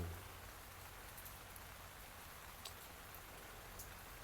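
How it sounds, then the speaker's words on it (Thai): Rain falling in strong wind outside a farm greenhouse, a steady, fairly faint hiss of drops with a constant low rumble of wind and no voices. "ฝนตกนะครับ ฝนตกลมแรง"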